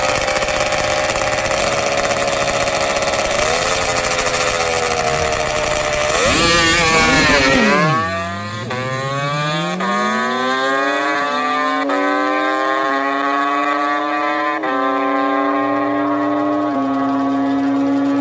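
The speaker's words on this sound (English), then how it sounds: "Enjoy the sweet sounds of two-stroke power." A Kawasaki H1 500 two-stroke drag bike races at a drag strip, its high-pitched engine screaming loudly, then dropping sharply through a fast downshift before climbing again as it winds up and fades off, with no talk.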